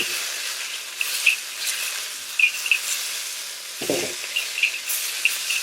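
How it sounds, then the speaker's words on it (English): Peanuts fry in hot oil over high heat, giving a steady close sizzle with crackling pops and sharp spits scattered throughout, plus a brief low clunk partway through. "We're going to turn our heat up all the way. We're going to put our peanuts in here."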